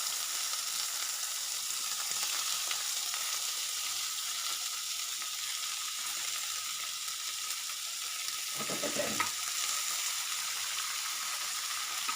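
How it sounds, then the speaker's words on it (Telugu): Ridge gourd pieces fry in hot tempering oil with a steady, even sizzle, and a brief louder crackle partway through. "పోపు వేయగాక పోపులో ముక్కలు వేసుకోవాలి"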